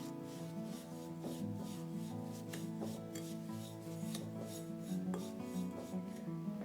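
Spices, shortening and sugar for an applesauce cake are mixed together in a bowl, making a soft, steady rubbing and scraping with light rhythmic knocks, faint and close, with no talking.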